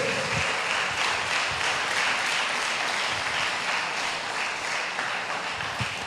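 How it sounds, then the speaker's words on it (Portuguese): A church congregation applauds during a sermon, steady, fairly soft clapping that fills the room for several seconds with little else heard. "Vamos dar um glória a Deus, amém? Aplauda ao Senhor."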